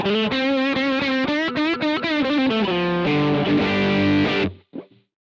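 Electric guitar through a Boss GT-100, a saturated, chorused lead phrase of bending and sliding notes followed by a sustained chord that cuts off, with a brief tail.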